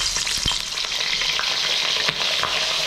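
Trevally fish fries in a pan with a loud, steady, close-up sizzle and occasional small pops of hot oil, with no talking.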